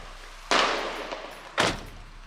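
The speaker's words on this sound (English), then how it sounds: "Firecracker explosions signal things like this stuff has arrived, or beware of police" Two sharp firecracker bangs go off in a Rio de Janeiro favela, about a second apart. Each loud crack is followed by a short, fading echo tail.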